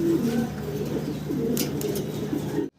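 Pigeons at a pigeon market coo steadily in low, overlapping murmurs that run close and fairly loud for nearly three seconds, then cut off abruptly at the end.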